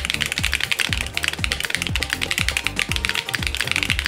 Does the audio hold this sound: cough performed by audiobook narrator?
no